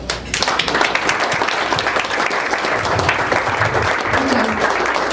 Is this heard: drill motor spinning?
no